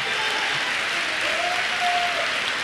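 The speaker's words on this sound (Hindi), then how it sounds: "तो आप सारे लोगों के लिए एक बार जबरदस्त क्लैपिंग होनी चाहिए" Sustained applause from an audience at a motivational seminar in Punjab, dense and steady throughout, with no speech over it.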